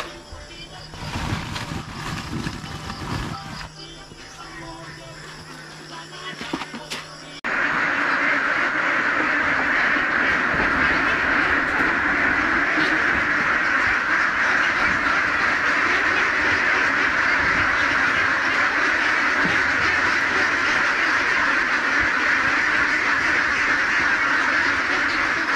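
Ducks in poultry pens quacking continuously, a dense, loud chorus of many birds close by that fills the scene, with a quieter stretch of mixed noise at the start before the flock noise takes over.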